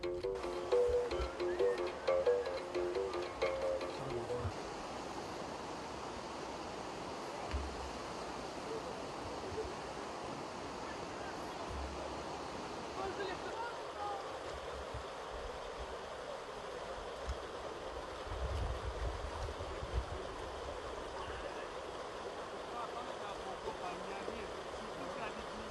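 The Lofoy River near Lofoy Falls flowing, a steady, faint broadband rush of water with wind, heard from nearby throughout with brief bits of voices and movement at the start.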